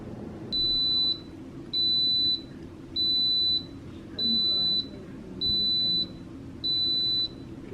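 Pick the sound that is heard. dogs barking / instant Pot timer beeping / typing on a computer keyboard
instant Pot timer beeping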